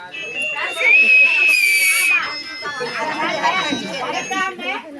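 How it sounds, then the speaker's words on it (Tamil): Crowd at a TVK members' consultation meeting in Karikalambakkam letting out a loud, sustained whistle over a second or so, amid lively chatter and cheering voices from the gathered people. "ஒரு விசில் அடிங்கப்பா."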